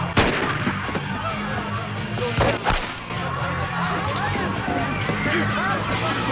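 Gunfire in a film scene: a few loud, sharp shots rise above a dense, busy soundtrack of music and scuffling, with a pair of heavy blasts in the middle and voices mixed in throughout.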